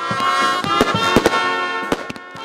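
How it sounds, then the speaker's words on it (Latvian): Fireworks pop and crack in quick irregular bursts during a memorial commemoration event, several sharp bangs close together over a continuous crackle. "baudīt krāšņu salūtu"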